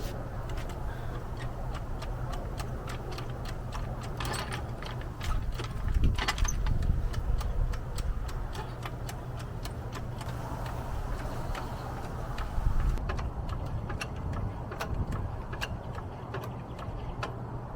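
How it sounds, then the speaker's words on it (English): A jack being pumped to lift the bed of a truck during a drop shackle install, heard as a steady series of close, regular ratcheting clicks over a constant low hum, with a couple of louder knocks along the way. "So we are going to be jacking up the bed"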